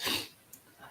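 A single short, breathy sneeze, fairly quiet, followed by a brief pause and faint rustling.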